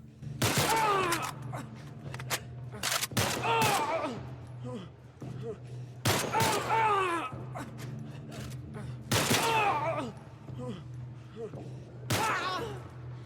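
Ally rifle fire in The Last of Us during a bandit fight, coming as repeated bursts of shots at about one- to two-second intervals over a steady low background hum, moderately loud and with no talk.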